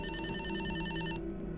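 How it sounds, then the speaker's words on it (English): A phone rings in the Escape the Backrooms video game with an electronic trilling ring that pulses steadily at close range, then stops abruptly with no speech. "So he's ringing my laptop."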